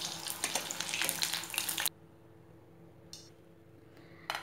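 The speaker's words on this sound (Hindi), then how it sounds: "इसी तरह से हम सभी को फ्राई कर लेंगे।" Yogurt-dough snack pieces bubble and crackle loudly in hot oil for a couple of seconds, then the sizzle cuts off abruptly, leaving near silence broken by a couple of faint taps.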